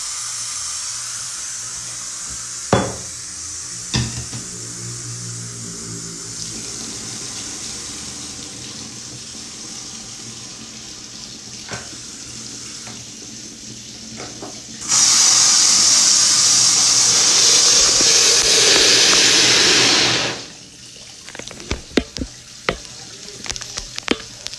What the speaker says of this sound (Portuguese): Vou desligar a minha pressão. E vou levar para a água.